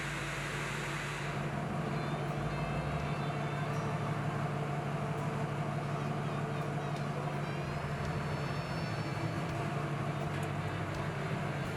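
A diesel engine idles steadily in a 2007 pickup truck during a transmission fluid check, a low, even rumble with a constant hum and faint mechanical whine that carries on alone at a moderate level.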